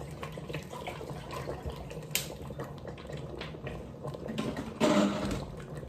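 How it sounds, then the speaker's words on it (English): Water pours and splashes into a pot steadily, with a brief clink partway through and a louder gush near the end. "Add some more water."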